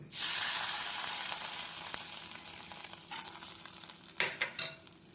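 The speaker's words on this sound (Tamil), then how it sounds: "ஒரு ஸ்பூன் எள் சேர்த்து விடலாம் நாம் எள் சேர்க்கவும் பொரியவும் கொட்டி விடலாம்" Sesame seeds and cashews fry in a pan for Kerala-style sweet aval, a loud burst of sizzling at the start easing into steady crackle, with a few sharp stirring scrapes near the end.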